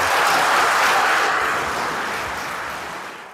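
A large crowd at an outdoor opposition political rally applauds, a thick, even roar of clapping that starts loud and slowly fades over a few seconds, with no clear voices on top.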